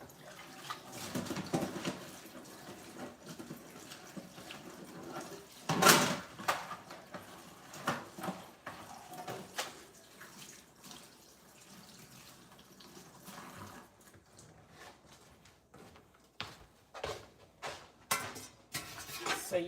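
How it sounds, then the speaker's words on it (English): A tap runs while a metal canner rack is rinsed in a sink, giving an uneven splash and rush of water with clanks and knocks, close and moderately loud. "let me go rinse it out because I just cleaned everything"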